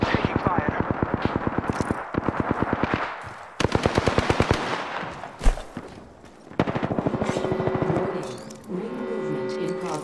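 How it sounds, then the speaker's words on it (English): Rapid automatic weapon fire bursts repeatedly in Apex Legends, several sustained volleys with brief gaps and a heavy boom amid game effects, and a voice speaks during the firing. "I'm taking fire."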